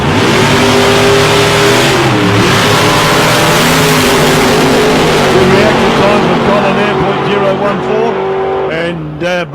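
Drag racing at South Coast Raceway between a small Toyota Celica and a Ford Mustang GT500, loud engines revving and accelerating hard with rising and shifting engine tones, a commentator talking over the roar before it drops off at the end.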